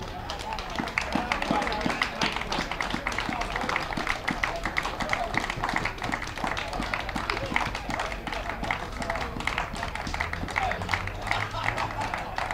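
Spectators at an amateur football match between Dun Cow FC and Real Stevenage applaud, with brisk, rapid clapping that runs evenly for several seconds and sounds fairly close.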